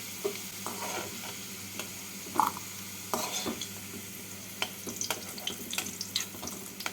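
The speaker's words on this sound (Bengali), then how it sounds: "আলুগুলো ভাজা হয়ে গেছে তুলে রাখছি আলুগুলোকে" Potatoes frying in hot oil and being lifted out with a spatula: a soft, steady sizzle broken by scattered scraping and clinking of the utensil against the pan.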